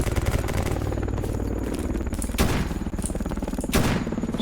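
Rapid, steady gunfire from an ongoing battle in the video game S.T.A.L.K.E.R. mod Escape From Pripyat, sounding like continuous automatic fire punctuated by two louder, closer shot bursts.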